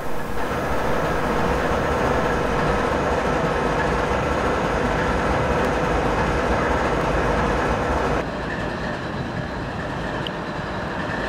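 A trio of diesel freight locomotives rests at idle, giving a loud, steady, dense engine rumble and drone that continues without a break. Its tone shifts slightly near the end, and no one talks.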